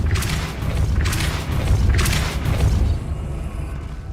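A Depulso force spell cast in the video game Hogwarts Legacy, heard as a few loud booming, whooshing bursts over a steady low rumble of game ambience.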